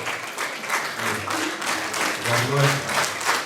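Audience applause at an anniversary celebration of a folk ensemble, sustained loud clapping from a crowd with some voices mixed in beneath.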